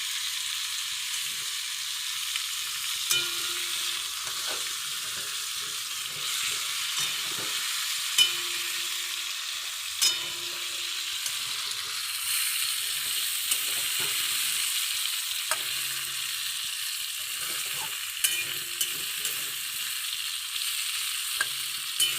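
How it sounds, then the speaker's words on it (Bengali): Fish sizzles in oil with green chili and garlic at a soft, steady level, while occasional scraping stirs and sharp utensil taps break through the hiss. "এটা এখন কাঁচা লঙ্কা দিয়ে রসুন দিয়ে মাছটারে ভালো করে ভেজে নেব।"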